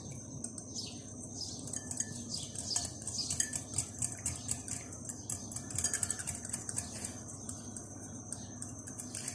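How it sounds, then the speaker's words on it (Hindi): Mayonnaise beaten with a whisk for a creamy fruit chaat, heard as a steady run of light metallic clinks and taps against a bowl, close and moderately quiet, with no talking. "और इनको अच्छा सा मैं बीट कर लूँगी विस्क के साथ"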